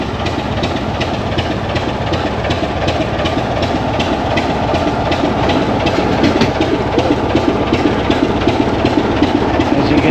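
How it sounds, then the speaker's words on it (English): Old intercity diesel train, a Class 25 locomotive near Totnes, heard as a steady rumbling engine drone with rhythmic clickety-clack of wheels on rail joints, continuous and fairly loud throughout. "an old intercity diesel train"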